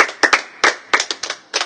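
Seven sharp hand claps from a trainer at an outdoor carnival bootcamp workout, irregular and close, with short gaps and no talk.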